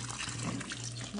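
Water poured into a pot while cooking tinobong, an Ilocano dish, a brief steady trickling stream heard up close with a low background hum.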